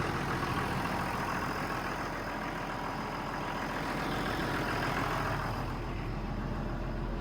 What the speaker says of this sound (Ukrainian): Послухайте, як він працює. Двигун Перкінс, шестерочка, без турбіни.